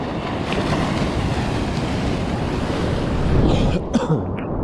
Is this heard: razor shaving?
no